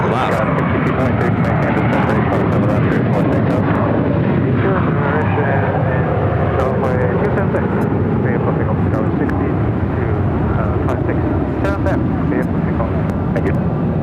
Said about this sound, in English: Heading to San Jose, California, 737-700 Southwest Airlines Flight 992, heading down to 7 left